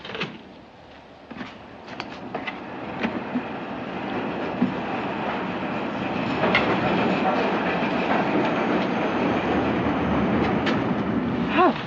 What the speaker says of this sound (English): The train for Ketchworth is now arriving at platform 3.